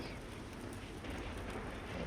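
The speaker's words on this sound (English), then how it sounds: "the rain should put that out in a minute." Rain in the RimWorld video game, a dense, steady hiss of falling drops, soft and continuous with no other sounds.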